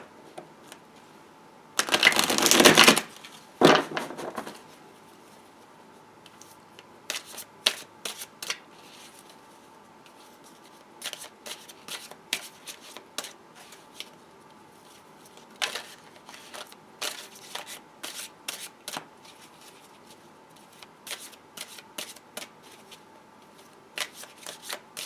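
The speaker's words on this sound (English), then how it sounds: "I was having a hard time shuffling that time" A Chrysalis Tarot card deck is shuffled close up in a loud riffling burst, followed by a long series of softer, irregular taps and flicks of the cards.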